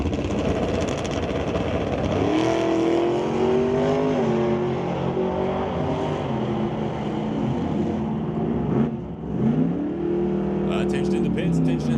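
Drag race cars, a Rad Torque Systems S10 and a Pontiac, roar down the track in a loud, sustained engine blast, pitch climbing as they accelerate through repeated gear pulls.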